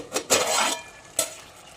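A metal lid lifted off a pot of simmering peas, drumsticks and potatoes gives a couple of close clattering clinks, one long scraping rattle followed by a shorter knock.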